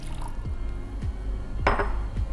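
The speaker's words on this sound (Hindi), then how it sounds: "सबसे पहले जाएगा बाउल के अंदर पानी" Water is poured into a bowl to make baklava dough, with a few small drips and a splashy, gurgling pour that swells near the end, heard up close.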